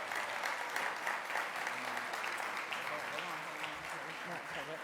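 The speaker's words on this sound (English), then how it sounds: "One last round of applause for our supporters from the state legislature." A crowd at the 26th Annual Governors Summit gives a sustained round of applause for supporters from the state legislature, a steady roar of clapping with voices talking through it.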